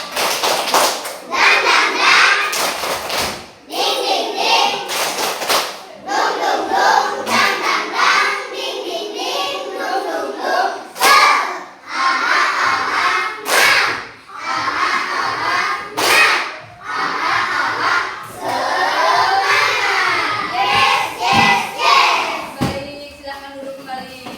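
Elementary schoolchildren in a combined-grade classroom clap a rhythmic spirit clap together, sharp loud claps in patterned bursts over roughly twenty seconds, with children's voices chanting along between the clap groups.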